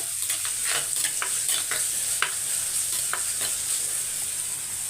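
Small onions sauté in a pan, with a steady crackling sizzle and the scrape of a stirring spoon at regular intervals. The frying stays close and continuous, with no voices.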